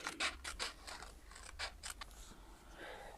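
Scissors snip paper tags in a run of quick, close cuts, each snip a short crisp burst with a brief pause between strokes, alone and with no talking.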